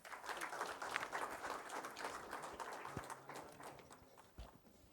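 Audience applause at an academic conference session welcoming a speaker, a steady wash of many hands clapping in a hall, fairly faint and continuous for several seconds with no talk over it.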